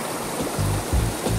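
A waterfall on a rural property in Santa Isabel, Brazil, roars loud and close as a constant broadband rush of falling water, with deeper surges of churning water swelling beneath it.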